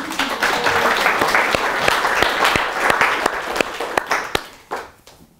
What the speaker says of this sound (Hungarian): Nagy tapsot kérek!